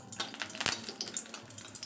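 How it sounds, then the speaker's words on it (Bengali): Chili frying in hot oil in a heated wok, a faint crackling sizzle with a few soft pops, close but quiet. "দিয়ে এবারে এই লঙ্কাটা ভেজে নেবো"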